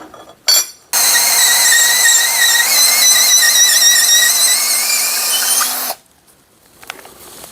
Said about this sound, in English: I started with a large bit and worked my way smaller, tapering it down to make sure that it was a nice snug fit